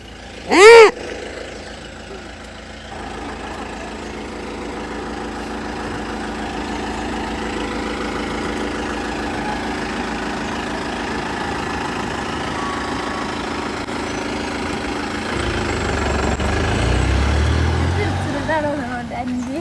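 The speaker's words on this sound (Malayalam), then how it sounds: "ബസ് വരുന്നുണ്ടടാ" A bus engine idles nearby as a steady low rumble that builds and roughens toward the end, after a loud sharp horn-like blare at the start, with people talking over it.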